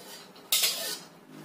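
Utensil stirring scrambled fried egg into other fried-snack ingredients in a bowl, giving a brief, close scraping and clinking burst midway through a quiet moment.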